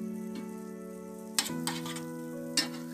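Mustard oil poured into a hot pan while making batti and chokha gives a soft sizzle under a steady tonal hum. A few sharp clatters of a utensil against the pan break through.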